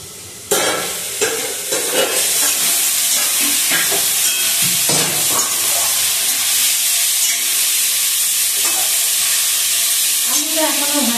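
Small new potatoes fry in a pan with a steady, loud sizzling hiss, while scraping stirs and clinks of a utensil cut in now and then; no one speaks.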